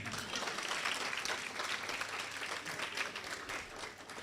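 Audience applause at a youth leadership symposium, dense continuous clapping from a crowd heard at a distance, steady and unbroken with no talking.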